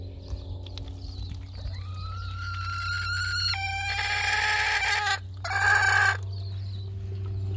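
Chickens and a rooster on a farm, with repeated clucking building into loud crowing bursts near the end over a steady low hum.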